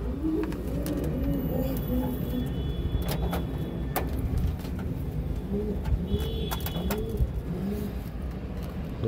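King pigeons coo repeatedly in soft, rolling phrases close by, under a steady background hum with occasional clicks and knocks.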